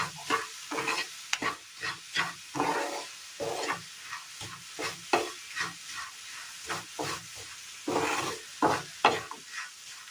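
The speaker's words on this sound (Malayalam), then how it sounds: "തീ കുറച്ച് വെച്ച് വെല്ലം ഒന്ന് അലിയിച്ചെടുക്കണം." Roasted flour stirred with jaggery melting in a pan over low heat for a Kerala snack, a regular series of scraping stirs over a soft sizzle, close and fairly quiet with no talking.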